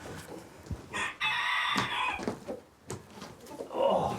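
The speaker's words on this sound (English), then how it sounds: "These are my chickens I brought over, and they're light Sussex is the breed" Light Sussex chickens cluck and crow on a farm, several birds calling in overlapping bursts, with one long crow standing out partway through amid scattered clucks.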